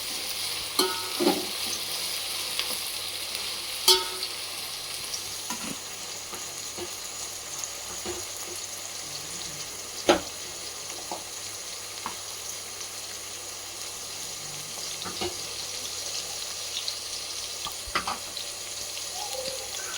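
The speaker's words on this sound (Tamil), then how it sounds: "தக்காளி நல்லா வதங்கட்டும்." Tomatoes sautéing over high heat in a pot for Hyderabad mutton biryani, a steady frying sizzle with occasional louder stirring clatters and scrapes, close by with no talk.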